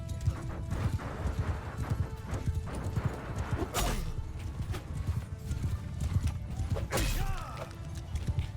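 Horse hooves clip-clopping in rapid rhythm during a Bannerlord battle, with neighing and whinnying rising over the galloping and clashing mechanical noises.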